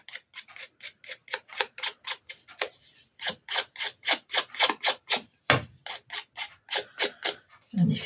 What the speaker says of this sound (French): je vais prendre mon ciseau. Et je vais venir, comme d'habitude, gratter, gratter.